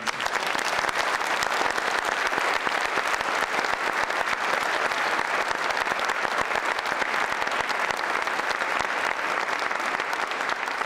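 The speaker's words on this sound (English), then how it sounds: "once again ask for a second round of applause for all our great performances." Sustained, dense applause from an audience at a Confucius Institute inauguration evening honoring performers, a loud, even roar of many clapping hands lasting the whole stretch without letup.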